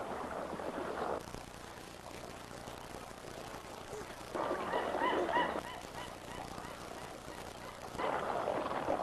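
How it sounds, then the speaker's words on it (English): A Brolga crane at a feeding ground gives three bursts of loud, harsh honking calls with quieter gaps between them, heard over a steady outdoor background. "Many types of birds come only here to feed, like this elegant Brolga crane."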